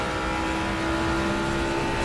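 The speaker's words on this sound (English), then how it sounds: "every time I hear one of those engines in the 787, is it the Mazda 787? Man, this thing sounds so freaking sick." Mazda 787 rotary engine racing around Mount Panorama in Assetto Corsa Competizione, a loud, steady, high-pitched buzzing drone held at constant intensity with no talking over it.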